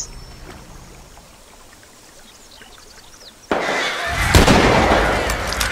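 A single sharp gunshot aimed at a deer in The Walking Dead survival game rings out loudly after a quiet outdoor ambience, followed by a rushing, echoing tail.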